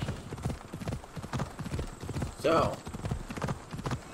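Horse hooves clip-clop in a quick, steady gallop in the video game Assassin's Creed Odyssey, close and rhythmic, with a brief whinny partway through and a short spoken word over the hoofbeats.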